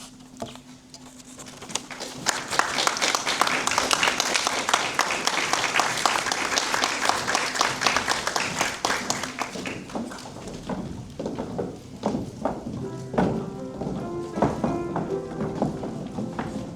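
A crowd at an Estonian school graduation ceremony applauds teachers, with sustained, dense clapping that swells after a quiet start, holds strongly, then thins into scattered claps near the end while a faint voice and some rustling come through.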